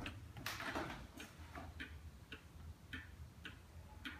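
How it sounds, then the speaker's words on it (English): Large heavily carved antique Black Forest wall cuckoo clock from Germany, circa 1890 to 1900, ticking in a steady even rhythm of crisp clicks about twice a second over a faint room hiss, with no talking. "a magnificent example of a heavily carved large wall cuckoo clock made in the Black Forest region of Germany in about 1890 to 1900"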